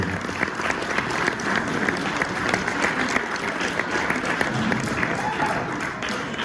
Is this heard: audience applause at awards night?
yes